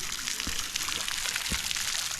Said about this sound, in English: this little water droppings here